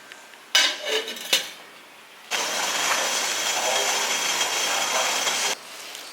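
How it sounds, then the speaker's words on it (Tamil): Metal plates clatter and clink a few times as a plate goes into an idli steamer pot of kozhukattai, then a steady hissing rush like steam runs for several seconds before cutting off. "இப்போ நம்ம இந்த தட்டை தூக்கி உள்ளே வச்சு வேக விட்டுடலாம்"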